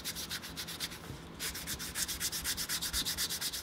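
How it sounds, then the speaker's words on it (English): Edges of a leather bag being sanded with quick, rhythmic back-and-forth rasping strokes, close and fairly quiet, with a short pause partway through before the even strokes resume. "So we have everything nicely sanded"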